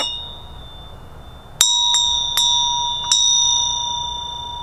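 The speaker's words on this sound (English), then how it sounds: "When the bell rings, he stops talking, and everyone present listens to the full sound of the bell." A meditation bell for mindfulness practice is struck several times in quick succession, each strike ringing clear and bright with a long, sustained shimmering tone that layers over the previous ones, close and resonant.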